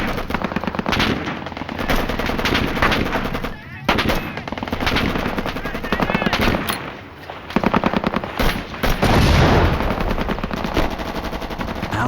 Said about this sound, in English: the two men retreated in a hail of bullets